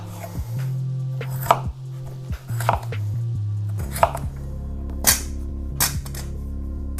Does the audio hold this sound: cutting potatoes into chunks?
yes